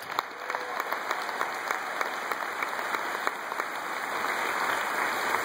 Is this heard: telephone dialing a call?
no